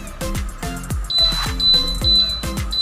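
Control panel buttons on a RANKCONN FL-S58M industrial dehumidifier beep repeatedly, about six short electronic chirps in an even rhythm, close and clear, with a thin steady tone running between some presses.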